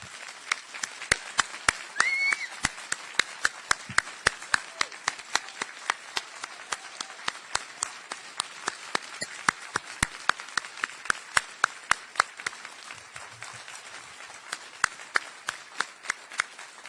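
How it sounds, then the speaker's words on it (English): Applause from an audience honoring first responders at a rodeo awards ceremony, a steady dense patter of many hands clapping that holds for the whole stretch without speech. "applause."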